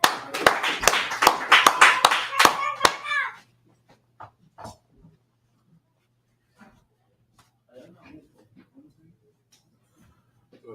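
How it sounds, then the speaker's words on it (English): A round of applause at a closing Feast of Tabernacles gathering, a few seconds of loud, sharp, rhythmic clapping from a group that stops abruptly, followed by near silence with faint scattered sounds. "Give brother a round of applause."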